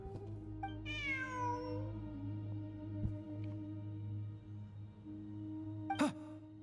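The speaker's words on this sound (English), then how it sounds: "Look, a cat." A cat meows in a video game, a rising then falling harmonic call near the start followed by a shorter second meow later, heard fairly close over a steady low game background hum.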